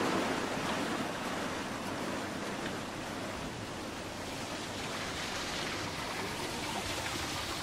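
Water rushes steadily through the channel of a traditional gharat water mill, a dense, even broadband roar with no pauses and no voices.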